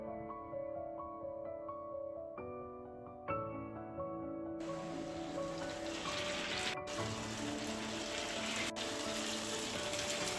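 Stuffed spicy masala yam kebabs deep frying in hot oil, a steady broadband sizzle that starts partway through and continues under background music.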